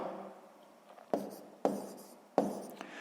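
Pen writing numbers by hand on paper during a multiplication exercise, three quiet scratchy strokes with short pauses between them, close and faint, no talking.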